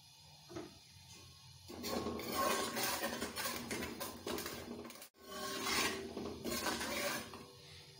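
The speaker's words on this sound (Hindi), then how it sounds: "मसाले को अच्छी तरह भून लेते हैं।" Spices for a potato bhujiya are stirred and roasted in a pan, with a utensil scraping and clinking against the metal in steady, close strokes, pausing briefly partway through.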